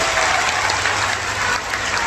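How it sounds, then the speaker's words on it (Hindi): A crowd at a live Bageshwar Dham religious gathering claps loudly and continuously, a dense wash of applause with no talking over it. "जो दे रहे उनके लिए जोरदार ताली बजा करके धन्यवाद दो"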